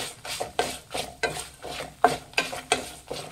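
A spice mixture for Mangalore-style chicken pulimunchi, with turmeric powder added, is stirred in a pan off the heat: about ten regular scraping strokes of a spoon against metal, close and steady, with no voices.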